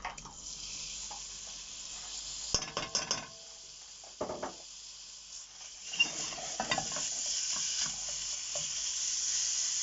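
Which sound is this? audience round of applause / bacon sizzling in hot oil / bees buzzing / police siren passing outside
bacon sizzling in hot oil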